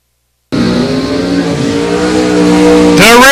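A Chevrolet S10 and a Camaro launch down a drag strip at a bracket racing event, engines roaring loud and close from a sudden start, holding a steady howl that climbs sharply as revs rise near the end.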